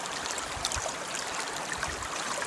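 Steady rushing of water current entering a gold prospecting sluice box in Alaska, a continuous close wash with faint gurgles and no talking.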